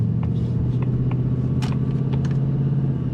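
A 2024 Ford Mustang GT S650 V8 rumbles low and steady from inside the car, its engine drone continuous around a shift into second gear, with faint clicks and small interior noises over the top.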